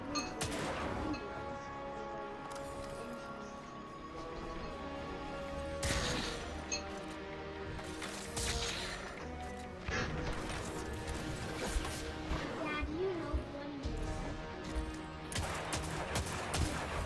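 Gunfire in the shooter game Destiny, in a solo Strange Terrain Nightfall run with Stormcaller and the Acrius shotgun: repeated sharp blasts and crashing impacts over a dense, continuous game soundscape of effects and music.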